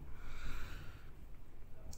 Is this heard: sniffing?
yes